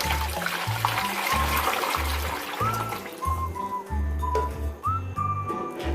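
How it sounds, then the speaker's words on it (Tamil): Water pours steadily into a tub with a continuous rushing hiss, with rhythmic music thumping underneath. "இப்ப இந்த டப்பு ஃபுல்லா நல்லா நம்ம தண்ணி ரொப்பிக்கலாம்."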